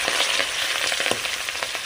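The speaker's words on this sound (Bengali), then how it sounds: "একে একে মাছগুলো আমি সব কড়াইতে দিয়ে দেবো দিয়ে লাল লাল করে ভেজে নেব" Steady, close hiss of small sea fish frying in hot oil in a kadai, with small irregular pops and crackles throughout.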